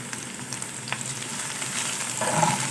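Chopped onions and green chillies frying in hot oil in a pan, a steady close sizzle with light stirring scrapes, no voices.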